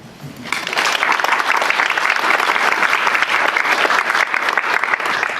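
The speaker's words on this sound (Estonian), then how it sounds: "talle kuluks selle suure töö eest üks aplaus ära" Audience applause fills an Estonian ornithology society lecture hall about cormorant populations, a dense, steady roar of many hands beginning abruptly after a quiet half second and holding loud to the end.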